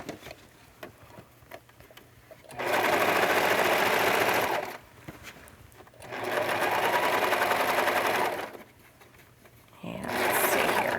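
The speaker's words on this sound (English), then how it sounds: "Just gonna serge this seam, and you can see that easing right there in the sleeve." A serger stitches a set-in sleeve seam in three loud, steady bursts of a few seconds each, separated by short pauses.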